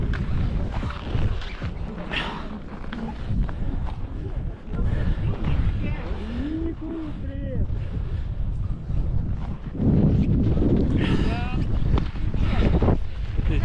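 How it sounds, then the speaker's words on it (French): Cold wind buffets the microphone on a mountain peak at the Dombai ski resort in the Caucasus, a continuous rough rumble with gusts, while a person speaks intermittently over it. "Il fait bien froid et du vent."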